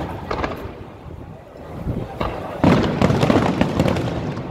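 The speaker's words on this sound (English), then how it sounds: "And now we got fireworks show." Fireworks show in Pamplona, Spain, during the running of the bulls festival: a steady stream of crackling bursts and booms, loudest in a strong barrage near the end, with wind rumble on the microphone.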